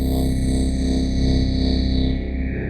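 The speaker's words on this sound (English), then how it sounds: "this is this very signature Waldorf thing that I'm hearing here" Waldorf Microwave wavetable synthesizer VST plugin plays a sustained, buzzy chord with shimmering upper harmonics and subtle pulsing motion, loud and steady throughout with no voices.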